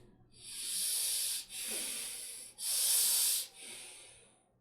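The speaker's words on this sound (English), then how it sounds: "Long, deep, and the hissing breath." Long, steady hissing exhales through the teeth during a deep belly breathing exercise, three sustained breaths separated by brief pauses, close and clear with no talking.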